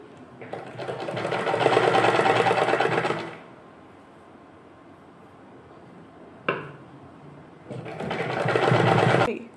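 A sewing machine stitches a seam on a small summer dress in two close, humming runs of rapid stitching, separated by a quiet pause with a brief click of the machine being adjusted.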